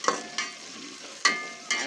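Onions cooking in a pan for aloo kaddu, with a soft steady sizzle broken by four sharp scraping stirs of a spoon. Close and fairly quiet, with no voices.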